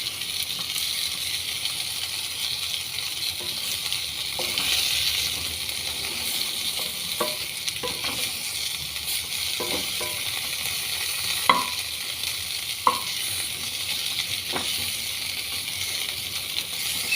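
Steamed brown rice being stir-fried in a pan gives a soft, continuous sizzle, with occasional scraping taps and a couple of sharp clinks as it is turned, moderately quiet and with no voices.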